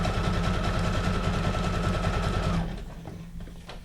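A Brother SQ9185 sewing machine runs a reinforced back stitch with a steady, fast, close mechanical whir, then stops abruptly, leaving faint clicks and handling noise.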